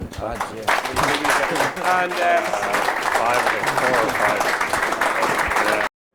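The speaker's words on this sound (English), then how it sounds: "a round of applause for our panel" Audience applause for a panel at a Cheltenham Festival horse racing preview night, with steady, dense clapping that fills the room for about five seconds before stopping abruptly, a voice faintly mixed in.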